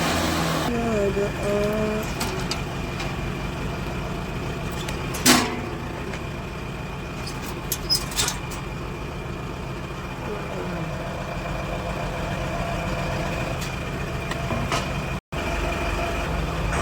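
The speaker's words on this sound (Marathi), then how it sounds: "आपली गाडी निघाली" A vehicle engine idles and runs steadily for the whole stretch at a constant moderate level, with a few brief knocks and clatters over it; voices are present in the background.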